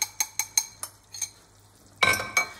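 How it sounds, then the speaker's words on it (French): Savoyard cheese fondue with white wine stirred in a pot, a run of light rhythmic scrapes and taps followed by a louder, fuller stir near the end, close up and with no speech. "Je mélange et vous allez voir que le fromage va se lier avec le vin blanc."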